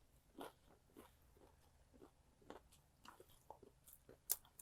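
A fried biscuit is bitten and chewed in a few faint, close crunches spaced irregularly over a quiet background, with no talking.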